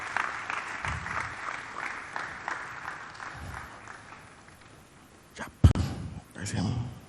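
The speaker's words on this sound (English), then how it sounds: "Please put a round of applause for Mr. Sunjay Wupita" Conference audience applause for a speaker being welcomed to the stage, moderate scattered clapping with some crowd noise, followed by a sharp bump and a voice speaking near the end.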